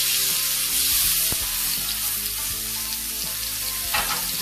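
A rib eye steak sears in a very hot pan, giving a loud, dense, continuous sizzle with crackling spatters throughout, close and without talk.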